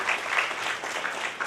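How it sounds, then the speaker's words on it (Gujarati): Audience at a Shrimad Bhagwat Katha gathering breaks into strong applause, a continuous crackling roar of many hands clapping, loud and close throughout. "એકવાર જોરદાર તાળીઓથી વધારો ત્રણેય"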